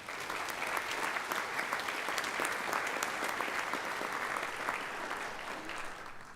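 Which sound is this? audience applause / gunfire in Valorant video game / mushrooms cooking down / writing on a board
audience applause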